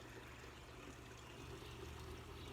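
Water from a garden fountain in a suburban Calgary yard trickles steadily, a continuous soft splashing wash that stays even and low in level throughout with no voices.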